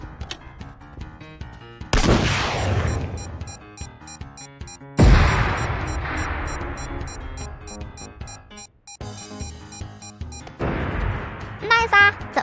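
A laser missile is launched at an enemy aircraft in a video game, with loud, sharp blasts near two and five seconds that decay over layered game tones and music.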